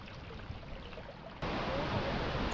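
Kumrat waterfall pouring from a great height: a steady broadband rush of falling water that jumps suddenly louder and fuller partway through, continuous and close, with no voices.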